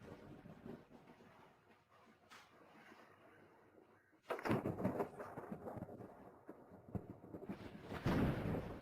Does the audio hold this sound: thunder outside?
yes